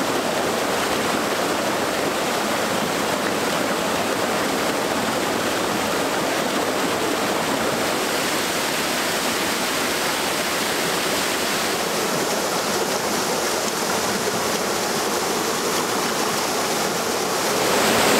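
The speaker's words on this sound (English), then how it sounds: "You can see this cascade, this waterfall here. It's running quite high because we've had quite a lot of rain in the last few days." An autumn waterfall cascade running high after heavy rain gives a steady, full rushing roar of falling water, close and unbroken for the whole stretch, with no voices.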